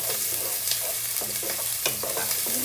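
Onion and garlic fry in a hot pan, a steady loud sizzle with short scraping strokes of stirring repeating throughout, close up with no talking.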